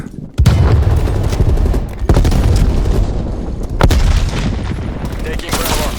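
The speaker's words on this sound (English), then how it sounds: "Stun grenade out." Heavy booming blasts from a stun grenade and combat in Call of Duty Black Ops Cold War, with loud sharp impacts at the start and again around two and four seconds over dense continuous battle noise.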